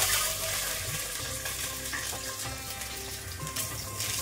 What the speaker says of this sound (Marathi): यामध्ये आपल्याला अंडी थोडीशी शॅलो फ्राय करायची आहे